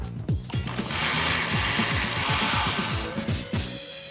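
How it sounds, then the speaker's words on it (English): A blender whirs through an oregano, lemon zest, black pepper and Greek olive oil marinade, a steady motor roar laced with rapid rattling clicks for a few seconds before winding down. "Let's blend this up."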